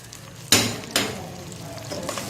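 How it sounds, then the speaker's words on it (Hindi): Ginger garlic paste hits a hot pan for chicken pulao, bursting into two sharp, loud sizzles that fade into a softer steady frying hiss, with no talking. "अब हम इसमें अदरक लहसुन की पेस्ट डालेंगे।"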